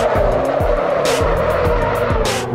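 Tires squealing in handbrake drifts in the Assetto Corsa racing game, with several short screeches and a revving engine that repeatedly rises and drops, loud and up close, with no talk.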